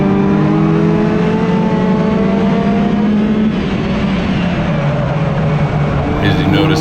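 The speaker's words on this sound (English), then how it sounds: "he hit the nitrous button there and just left me" A race car's engine screams loudly and steadily under acceleration with nitrous, its pitch holding high in a sustained roar and dipping slightly midway, heard close and alone.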